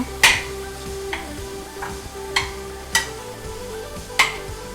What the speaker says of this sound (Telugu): ఇప్పుడు దీన్ని బాగా స్మాష్ చేసేసుకోవాలి ఇందులో వేసిన తర్వాత